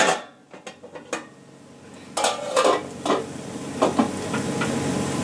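Metal lid set back onto a pot of cooked potatoes, a series of sharp clinks and rattling clatters of metal on metal, close and fairly loud over a low background hiss, no talking.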